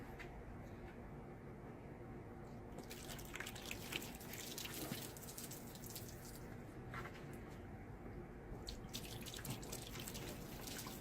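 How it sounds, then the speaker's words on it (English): Water runs steadily over a freshly polished, shiny surface, a continuous gentle splashing and trickling that sounds close and stays fairly even throughout, with no voices. "Just run some water over it and see how it beads up."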